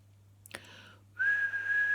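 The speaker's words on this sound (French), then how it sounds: "On siffle," A person whistles a single sustained, steady tone as part of a singing exercise, preceded by a brief soft breathy sound in an otherwise quiet room.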